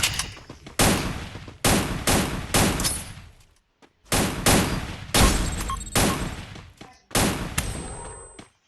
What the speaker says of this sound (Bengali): ও গাইস, এক গুলি শটগানটা দিচ্ছে।